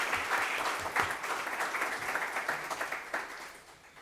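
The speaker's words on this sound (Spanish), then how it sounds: "un fuerte aplauso para los ponentes" Attendees at a logistics and transport conference applaud the speakers, a steady, moderately faint wash of clapping that slowly fades toward the end.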